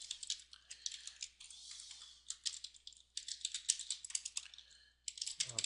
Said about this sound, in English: If you don't want to watch me type CSS, you can fast forward this part.